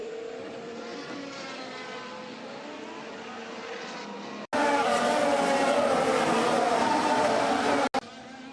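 A Formula One Ferrari racing car runs on track with a sustained high-revving engine whine that grows much louder partway through and briefly cuts out, while voices talk over it.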